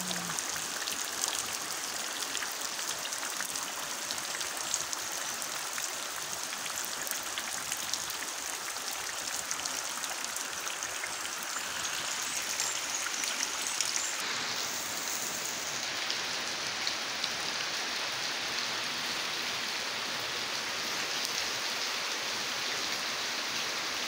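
Steady rain pours down on surfaces in a constant, even hiss that fills the whole stretch, with no voices or pauses.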